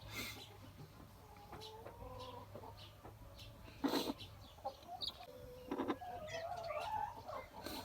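Soft, scattered clucking from a young hen, about a year old, with a few sharper calls mixed in, against a steady low background hum and faint bird chatter.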